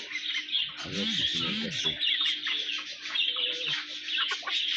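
Foreign-breed chickens cluck softly beneath continuous high bird chirping, while a person speaks briefly near the start.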